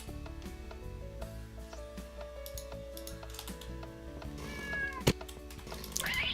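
A cat in the Minecraft video game meows repeatedly in short, clear cries over quiet game sounds and clicking keys, getting louder toward the end.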